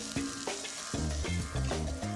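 Garlic cloves and peppers frying in a hot pan, a steady close sizzle with a few louder bursts as the ingredients are stirred and shifted, heard alone without talk.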